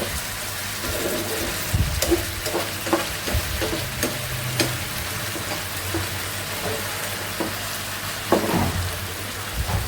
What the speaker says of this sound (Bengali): তো আমি ভাজি তেলে দিয়ে দিছি